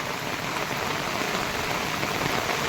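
Heavy rain pours down in a steady, dense hiss during flooding in Kuhe Chimbipada, Bhiwandi, loud and unbroken with no voices.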